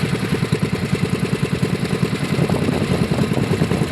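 A small boat's repaired engine runs steadily at idle, a close, loud rhythmic chugging clatter with no speech over it.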